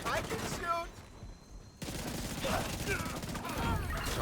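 Gunfire in a shooting video game, rapid bursts of shots close and loud, broken by a brief quiet gap before the firing resumes, with voices from the game over it.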